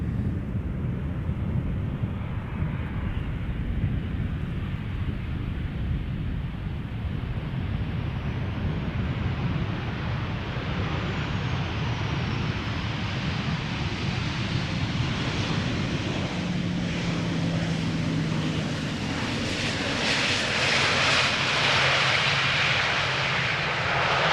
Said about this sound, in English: Next up is a KLM 737-800 arriving from Bordeaux.